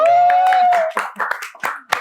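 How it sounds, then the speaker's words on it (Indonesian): A handful of hand claps ring out in quick, uneven succession, close by and mixed with cheerful voices. "tepuk tangan"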